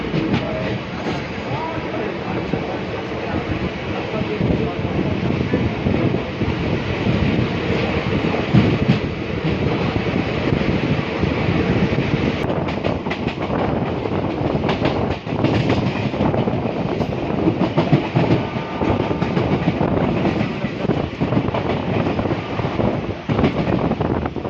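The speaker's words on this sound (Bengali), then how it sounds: "সো আমাদের ট্রেন চালু হয়ে গেছে" Passenger train running after leaving Berhampore station, heard from inside a carriage: a continuous loud rumble with rhythmic wheel clatter and wind buffeting, while voices murmur faintly beneath.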